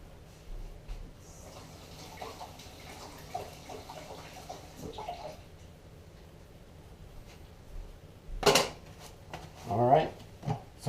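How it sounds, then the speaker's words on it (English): Water splashes and gushes over a heated PVC pipe rod holder in two short, loud bursts near the end, after a stretch of quiet handling noises. "Let me just cool it down with some water so that way it sticks perfectly and it stays right there."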